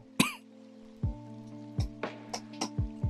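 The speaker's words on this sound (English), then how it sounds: "It's me coughing." A sharp cough sounds close to the microphone, followed by a series of soft, irregular taps and knocks over a low steady hum.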